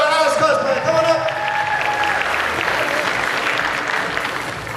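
A crowd at the Supanova Gold Coast 2016 cosplay contest applauds a contestant, loud sustained clapping filling the room, with a voice briefly audible at the start as the clapping slowly fades.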